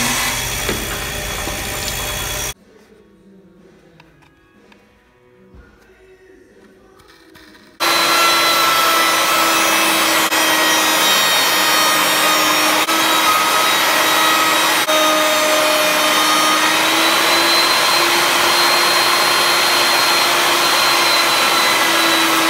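A router cutting a rabbet along a wooden edge, heard as a loud, steady high-pitched whine with a brief drop to near quiet between passes before the cut resumes and runs continuously.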